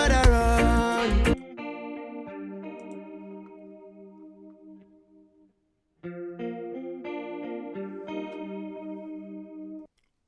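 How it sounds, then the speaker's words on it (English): Electric guitar with a chorus effect in a reggae mix plays shimmering melodic single notes, then falls briefly silent before a second phrase begins. "Right, so nice guitar sound, chorus."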